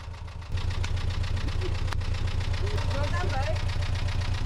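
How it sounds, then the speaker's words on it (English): A boat engine runs steadily with a rhythmic low throb as the shaft turns, close and constant, while a voice talks briefly over it. "He switched the engine on to check how it's going with the vibration of the engine"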